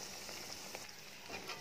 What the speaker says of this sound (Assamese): নিমকিখিনি আপুনি ল' টু মিডিয়াম ফ্লেমত ফ্ৰাই কৰিব।